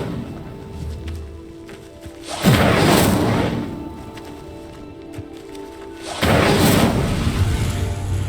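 Incendio fire spell blasts in Hogwarts Legacy come as two loud whooshing bursts several seconds apart, each flaring suddenly then tapering over steady background game ambience.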